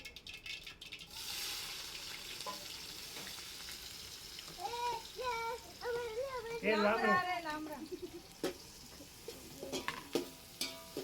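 Chopped onions go into khichdi cooking on a stove, with a sizzle and stirring scrapes. Voices talk over much of it.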